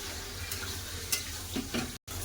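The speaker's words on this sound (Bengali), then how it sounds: "মশলা সাথে খুব ভালো করে কষে নেবো" Meat fries with spices in hot oil in a pan, giving a steady close sizzle broken by a few scraping stirs, with no talking.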